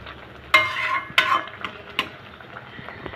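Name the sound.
stirring sim bahar (bean curry) in a pan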